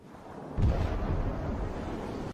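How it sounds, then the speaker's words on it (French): An explosion sound effect dropped into a comedy edit: a sudden low boom that hits hard, then rumbles on steadily before cutting off abruptly. "pourquoi t'as mis une explosion là?"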